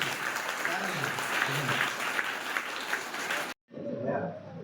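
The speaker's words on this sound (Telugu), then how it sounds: "సార్ ఒకసారి మీ అందరి" A school audience applauds at a Teachers' Day event at a government high school, with dense steady clapping and voices mixed in. The clapping drops out abruptly near the end, then returns more faintly.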